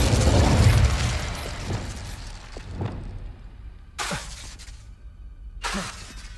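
A burst of fire from a fantasy spell, a loud blast and crackle that tails off, followed by several smaller sharp crashes and pops.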